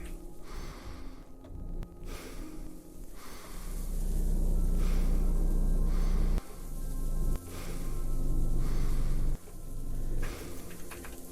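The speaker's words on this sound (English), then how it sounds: "Enough with the heavy breathing, sir." Heavy breathing in the game Cataclysm DDA: loud, close, slow breaths that swell and cut off several times over a soft hissing backdrop.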